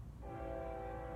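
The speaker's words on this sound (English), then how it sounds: "Sorry if you can hear the train in the background." A train passes in the background near a house, heard as a steady low rumble with a sustained horn-like tone, faint and distant, with no talk.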